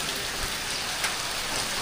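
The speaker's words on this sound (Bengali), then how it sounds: "কিন্তু সবচেয়ে খুশির সংবাদ হচ্ছে বৃষ্টি পড়তেছে প্রচুর" Heavy rain pours down at Cox's Bazar, a steady, dense hiss of drops hitting surfaces that holds unbroken and fairly loud for the whole moment, with no voices.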